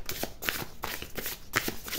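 Oracle cards being handled and shuffled, with continuous papery riffling and sliding close by, a few sharper card snaps, and a faint voice in the background.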